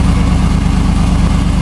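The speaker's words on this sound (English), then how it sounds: "Oh, well, our Sahara is running." A Jeep Wrangler JK Sahara fitted with an LS engine swap and a new wiring harness idles close by, giving a loud, steady, low rumbling drone with an even pulse and no voices.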